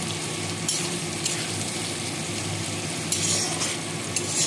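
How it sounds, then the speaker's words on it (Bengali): Bengali banana flower curry ingredients, mochar ghonto, frying steadily in a pan, a constant close sizzle with a few soft clinks of a utensil. "এগুলো আমি দিয়ে ভাজবো।"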